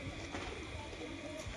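A young female pigeon gives a soft, faint coo, low and brief against steady background noise.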